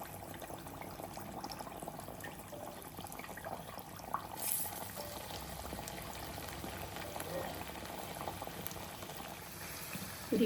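Masala vada frying in hot oil, a steady bubbling hiss that runs throughout, close and moderately loud, with a brief splash-like burst midway.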